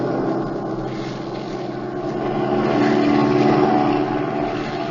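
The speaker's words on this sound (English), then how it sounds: "pilot, swing over so we can get a look at that plane down there" Propeller airplane engine sound effect from an old-time radio detective drama: a steady, loud droning roar that swells slightly toward the middle and holds throughout, with no voices.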